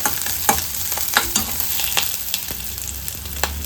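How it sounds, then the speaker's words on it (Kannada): Tomatoes fry and get stirred in a pan for a Kerala-style red chutney, a steady sizzle broken by repeated scraping stir strokes, close and fairly loud with no talk. "ಇವಾಗ ಟೊಮೆಟೊ ಹಾಕ್ಕೊಳ್ತಾ ಇದ್ದೀನಿ ಎಲ್ಲವನ್ನು ಚೆನ್ನಾಗಿ ಫ್ರೈ ಮಾಡ್ಕೋಬೇಕು"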